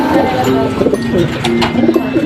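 Soft cooing from a racing pigeon just back from a race, close by amid a busy, noisy background with faint chatter and scattered clicks.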